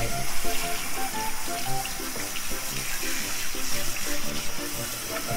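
Steady close-up running water from a tap or shower during a dachshund's bath, continuous and fairly loud with faint scattered sounds underneath.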